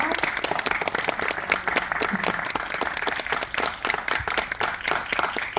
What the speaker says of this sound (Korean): 큰 박수로 맞아주시면 감사하겠습니다.